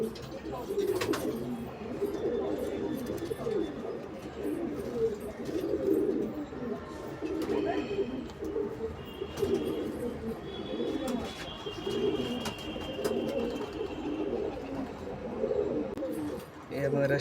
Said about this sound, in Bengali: এটা আমাদের ঘরের পায়রা